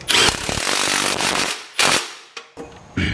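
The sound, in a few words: tool tightening bolt on Honda Accord control arm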